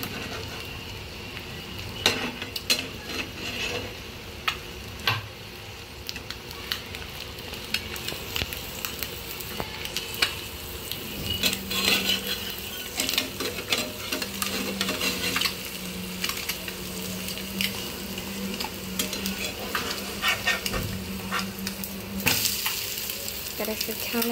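Egg-dipped bread sizzles in a pan on the stove for a long stretch, punctuated by clinks and scrapes of a spatula as the slices are turned; steady close-up frying with no voices.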